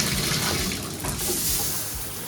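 Tap water gushing at strong pressure in a lodging in Utqiagvik, Alaska, a steady close hiss and splash that continues without a break.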